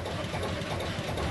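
An old boat engine runs at a steady, close, loud drone with a rough low knock, heard alone with no voices, at a maritime heritage event with old vessels like tugboats and sailing barges.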